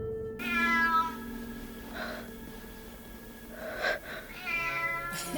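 A cat meows several times in short, drawn-out calls with soft sniffs and breaths between them, fairly close and quiet, with no talking.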